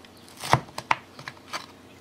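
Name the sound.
knife cutting an air-fried Trader Joe's broccoli cheddar quiche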